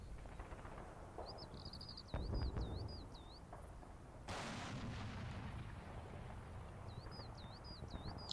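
Distant explosions and artillery fire in the Normandy war strategy game Combat Mission: Battle for Normandy, two heavy booms a couple of seconds apart amid faint crackling and birdsong, fairly quiet overall.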